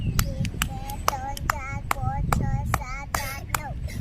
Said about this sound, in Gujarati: 9 તાળી કરો.